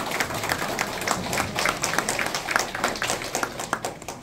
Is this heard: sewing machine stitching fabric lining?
no